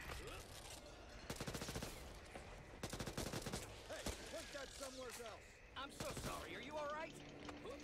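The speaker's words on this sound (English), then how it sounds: "Stop shooting me!" Rapid bursts of gunfire in the zombie shooter game Back 4 Blood, with repeated short volleys cutting through a busy mix of game effects while several players talk and shout over them.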